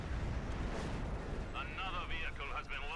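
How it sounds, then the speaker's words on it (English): Field gun artillery fire in Company of Heroes 2, a dense, continuous rumble of booms and blasts lasting throughout, with a commentator's voice layered over the battle din in the second half. "Field gun now trying to bombard"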